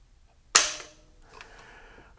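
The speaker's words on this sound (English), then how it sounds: "let's see how heavy this trigger is. So for our first pull," The trigger of an HK MR27 rifle is pulled once while hooked to a trigger pull gauge, giving a single sharp, close metallic snap followed by faint handling noise.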